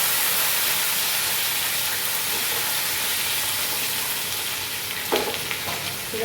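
Gongura leaves frying in a pan for pachadi, a steady loud sizzle and hiss that holds evenly throughout, with a brief clatter near the end.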